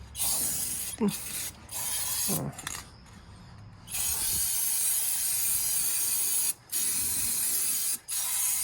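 A ceramic coating sprays in long steady hissing bursts onto the rusty shock tower of a Cadillac DeVille, loud and close. The spray cuts out briefly several times before resuming, with no talking.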